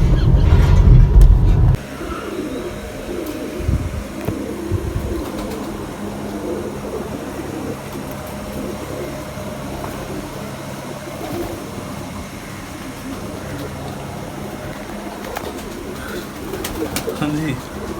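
Pigeons kept by a pigeon fancier coo softly through a steady outdoor background, after an opening burst of low rumbling noise, with occasional faint clicks and distant traffic-like hum.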